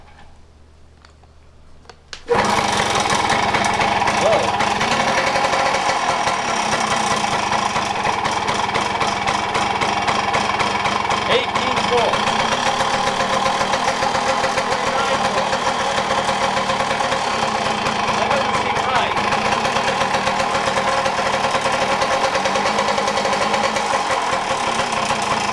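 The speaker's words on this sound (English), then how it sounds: "when I try to kickstart the motorcycle" After a couple of seconds of quiet, a 45-year-old motorcycle engine catches after a kickstart and runs steadily, a loud rattling, ticking idle that continues without pause.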